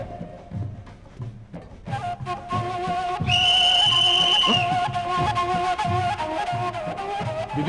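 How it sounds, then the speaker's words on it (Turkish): A whistle blows in a room, a bright sustained shrill tone lasting about a second, then fading into the background noise and murmur. "Düdük çalmasana."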